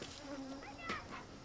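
Bees kept by subsistence farmers in Africa for honey give a brief, faint buzz.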